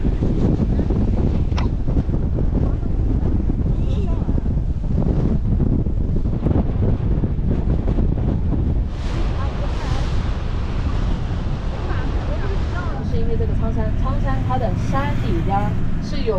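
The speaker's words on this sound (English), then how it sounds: "we're heading back into wind now, back towards where we came from, so it's very windy, very breezy." Strong wind buffets the microphone with a constant loud roar on a moving boat heading into the wind in Yunnan, China, water rushing and splashing beneath it.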